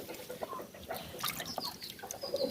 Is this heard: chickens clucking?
yes